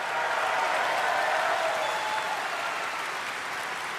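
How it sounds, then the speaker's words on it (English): A crowd at a BlizzCon watch party applauds steadily, a dense wash of clapping that holds loud throughout and tapers only slightly near the end. "All the people clapping right now have installed all the things."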